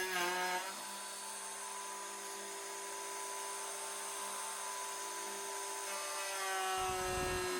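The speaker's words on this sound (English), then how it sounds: "I made a little mini router sled so that I could thickness the headstock" A router riding on a small sled thicknesses a guitar headstock, giving a steady high whine with a bright, even drone throughout and a rougher burst of cutting noise at the close.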